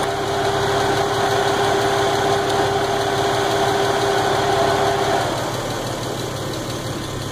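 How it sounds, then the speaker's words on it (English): A Toyota engine idling while misfiring, with a steady, loud mechanical drone, a sustained tone, and a slightly uneven, knocking roughness. Near the end the tone drops away and the running softens a little. "the engine is misfiring"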